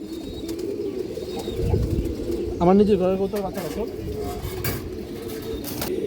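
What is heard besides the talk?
pigeons cooing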